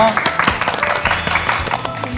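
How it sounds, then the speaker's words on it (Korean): A studio audience at a televised quiz show applauds in a brief, lively burst of clapping, with people talking over the applause. "큰 박수 부탁드립니다"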